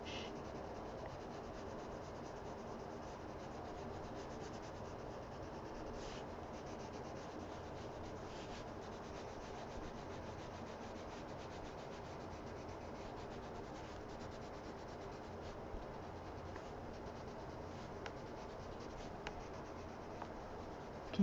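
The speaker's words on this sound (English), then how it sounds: "Can you hear the pencil coloring?" Colored pencil coloring a dragon picture on paper, a quiet continuous scratchy rubbing with steady strokes throughout, close to the microphone and without talk.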